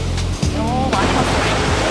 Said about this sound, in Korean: 크게 칠 때는 10m도 넘는 파도가 치기 때문에 매우 위험한데